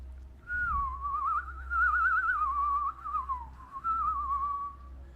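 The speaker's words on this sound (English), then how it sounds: "Am I a whistler? Can I whistle?" A person whistles a wavering, sliding tune for about five seconds, close and clear over a faint low hum.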